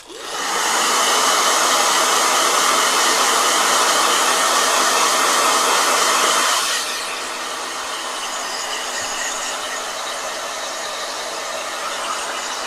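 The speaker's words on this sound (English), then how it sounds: "Blow dryer." A hair dryer blows steadily and loudly for several seconds, then drops to a lower, softer setting and keeps running.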